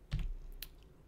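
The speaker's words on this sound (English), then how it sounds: "Hit the letter T on my keyboard." A single key press on a computer keyboard while typing in craft design software, a soft close click followed by a couple of fainter light taps in a quiet room.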